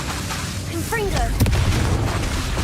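A Confringo spell blast in Hogwarts Legacy, one sharp booming burst midway followed by a rumbling tail, amid battle noise and brief voiced sounds just before.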